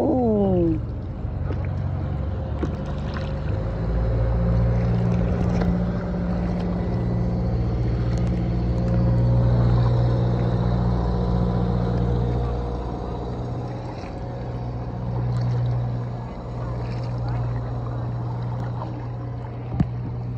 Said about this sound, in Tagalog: Daming bangka dito, no?